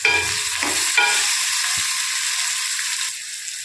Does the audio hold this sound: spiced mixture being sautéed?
yes